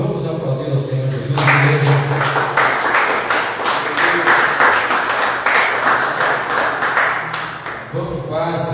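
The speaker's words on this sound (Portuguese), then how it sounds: "Vamos aplaudir ao Senhor Jesus." A church congregation applauds together after a closing blessing, steady broadband clapping filling the room for several seconds and tapering near the end, with a voice speaking over it.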